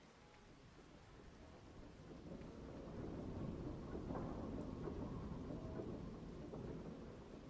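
Distant factory noise on a farm in Scotland rolls in as a faint, continuous low rumble that swells and lingers much like a thunderstorm, with no voices over it.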